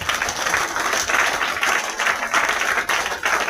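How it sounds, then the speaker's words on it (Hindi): Seminar audience in Ghaziabad clapping loudly with both hands raised overhead, a dense, fairly close burst of many hands that pulses in uneven waves. "एक बार दोनों हाथ ऊपर करके जोरदार ताली बजाओ"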